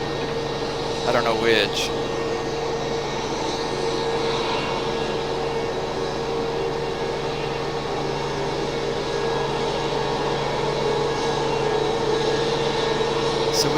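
An aircraft arriving at Raleigh-Durham airport gives a steady, broad engine roar and whine that holds at a moderate distance, while a person speaks briefly near the start.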